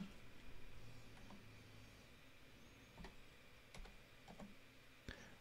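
Soft, quick keystrokes on a computer keyboard with a Dvorak layout patter in uneven bursts, with a few sharper clicks standing out against a quiet room hum.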